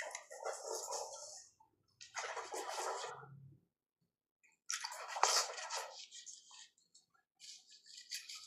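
Water running and splashing while someone washes their face, in several uneven bursts separated by brief quiet gaps, close and fairly soft.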